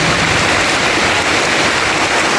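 Heavy rain pours down at a village home after a storm, a loud, continuous, close wash of falling water with no break or talk.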